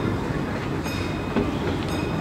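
Disneyland Railroad train rolling along its track, a steady mechanical rumble with faint rhythmic wheel clatter and a couple of brief high metallic squeals, close and continuous with no talking.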